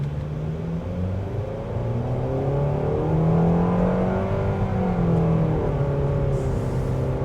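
A 2026 Nissan Kicks SR Premium with a CVT pulls away from a standstill on an open road, its engine droning in a steady rising hum from inside the cabin, with no talk.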